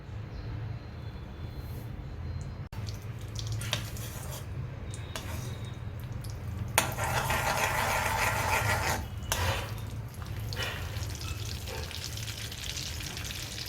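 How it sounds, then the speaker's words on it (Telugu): Butter and sunflower oil heating in a pan on a stove, giving a steady close sizzle and hiss that swells louder midway, with a low constant hum underneath. "స్టవ్ మీద కర్రీ కోసం ఒక ప్యాన్ పెట్టుకొని ఇందులో 1 స్పూన్ బటరు, 1 స్పూన్ వరకు నార్మల్ సన్ఫ్లవర్ ఆయిల్ వేసుకోవాలి"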